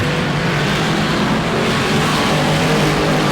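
A Pure Stock race car engine at Auburndale revs and accelerates on the track, a loud continuous roar holding steady across the whole short stretch.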